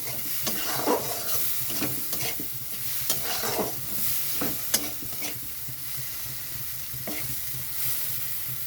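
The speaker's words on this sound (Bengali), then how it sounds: "এটাকে বারবার নাড়তে হবে তা না হলে তলায় পুড়ে যাবে" A thick tomato paste masala for a fish curry is stirred repeatedly in a frying pan, spatula scrapes landing in an uneven rhythm over a constant close sizzle, loud and without any voices.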